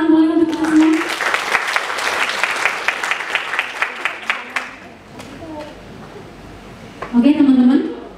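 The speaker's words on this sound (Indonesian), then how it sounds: "tepuk tangan boleh untuk kita semua" Seminar audience at a public speaking event claps in a dense burst that gradually thins out and fades, followed by a voice speaking over the tail end.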